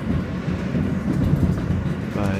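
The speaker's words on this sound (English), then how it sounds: "look, there's this R160B train" An R160B subway train running on the N line on battery power rumbles past close by. It gives off a heavy low roar with wheel clatter on the rails, and a faint hint of a voice can be heard under the noise.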